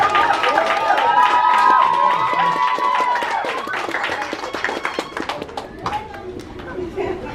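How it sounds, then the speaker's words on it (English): Crowd applause and cheering at a kindergarten graduation ceremony, a dense sustained wash of clapping with shouts and chatter on top, loud at first and gradually thinning out. "Let's give a big round of applause."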